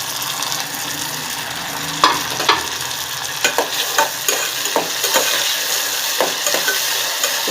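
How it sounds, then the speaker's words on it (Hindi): Tomatoes fry with softened onions in a pan for raw mango chutney, a steady sizzle broken by repeated scraping clicks of a spoon stirring the mix, close and clear with no talking. "अब हम इसके अंदर टमाटर ऐड कर देंगे।"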